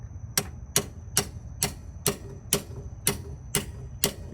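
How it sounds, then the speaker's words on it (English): A hammer taps a temperature sensor into a radiator for dual radiator fans: about nine sharp, evenly spaced metallic knocks at a steady rhythm, close and fairly loud over a low background hum. "All right, I got a hammer. I gotta bump it in there now."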